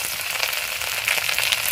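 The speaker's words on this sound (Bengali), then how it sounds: "মাছ ভাজার তেলে দিয়ে দিচ্ছি আদা" Ginger and panch phoron frying in oil left over from frying fish, giving a steady, close, fairly loud hissing sizzle with fine crackles and no voices.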